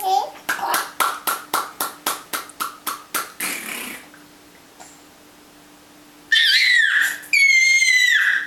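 A small child claps hands at home, a steady run of about a dozen close, crisp claps, followed by a pause and then high squealing child vocalizations.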